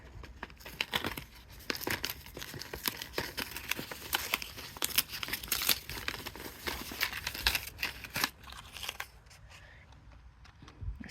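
A well-stuck-down paper envelope from a crochet subscription box is torn and pulled open, giving a long run of close, loud crinkling and ripping bursts that trail off near the end.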